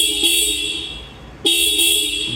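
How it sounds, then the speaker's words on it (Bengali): The double hydraulic horn of a 2022 Apache RTR 4V motorcycle in fresh condition sounds two loud, sustained blasts separated by a short pause, close by and alone. "double hydraulic horn"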